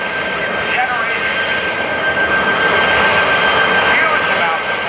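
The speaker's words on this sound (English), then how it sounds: "watch now as all 3 engines are now coming to life, generating" Three jet engines of a record-setting 376 mph vehicle roar to life together, producing a loud, continuous, broadband jet roar that holds steady throughout.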